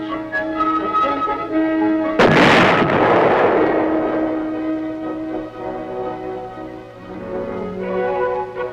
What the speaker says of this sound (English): record the motion of the gun barrel with respect to the entire vehicle as the projectile leaves the muzzle and the weapon recoils